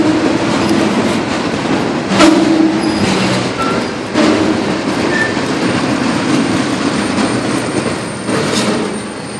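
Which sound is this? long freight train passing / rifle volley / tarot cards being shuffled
long freight train passing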